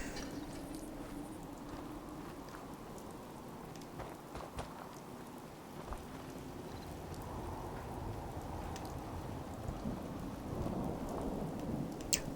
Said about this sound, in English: See, it's starting to rain.